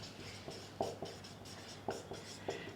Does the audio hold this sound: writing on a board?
yes